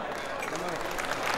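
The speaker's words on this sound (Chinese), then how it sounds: "给自己一个掌声好不好？" Applause from a banquet audience at a cultural and sports association's fifteenth-anniversary dinner in Kuala Lumpur, a steady wash of clapping under a host's amplified voice.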